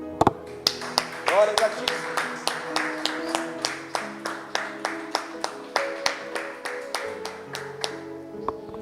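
Church congregation clapping in a steady rhythmic beat, dozens of even claps in a row, while a preacher's voice speaks over them at moments.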